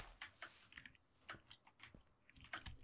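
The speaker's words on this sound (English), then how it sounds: "Is my keyboard annoying you?" Computer keyboard typing during a Minecraft Hunger Games session: a steady run of soft, irregular key clicks at moderate closeness, alone without talk.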